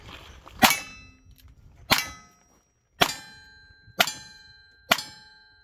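Five sharp metallic clangs of gunshots striking steel targets at a cowboy action shooting stage, evenly spaced about a second apart, each ringing out with a bright decaying tone, fairly close and loud with no talk over them.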